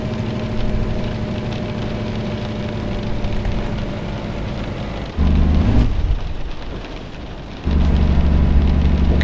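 Rain in the Euro Truck Simulator 2 driving game, a steady hiss of falling rain over a low truck engine drone, with the rumble swelling louder twice.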